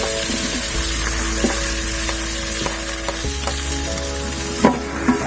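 Steady sizzle of tomatoes dropping into hot oil with crushed ginger and garlic in a pan, with a few light stirring clinks and a short scrape, continuous and close, no voices.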